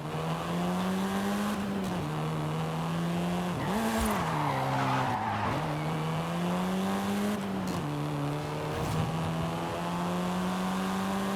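Volkswagen Golf, the fastest of its range, driving in Forza Horizon 5 with a steady engine drone and tire skidding that rises and dips with brief squeals, continuous and loud.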